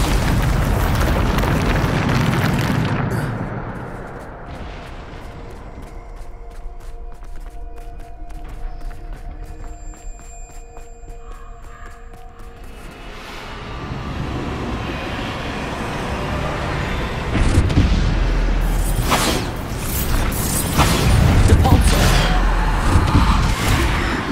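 Bombarda spell explosions from Hogwarts Legacy, heavy booming blasts and rumbling bursts that open and close the stretch around a quieter middle of tonal game sounds, loud and close.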